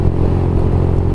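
A motorcycle engine with a faulty valve idles close by with a rough, uneven clattering tick running through its low rumble.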